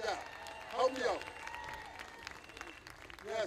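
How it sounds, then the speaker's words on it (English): A crowd at a political rally in Berkeley gives a short burst of scattered clapping, faint and distant, with talking continuing over it. "Somebody give me a clap."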